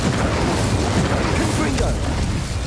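Confringo fire-blast spell in Hogwarts Legacy, a loud, continuous roaring burst with dense crackling texture that holds steady for a couple of seconds, up close and filling the mix.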